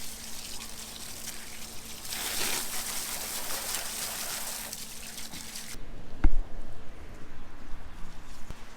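Water runs from a tap over wild amakhowe mushrooms for a quick rinse, a steady close splashing stream that stops, followed by handling knocks and clatter in a kitchen.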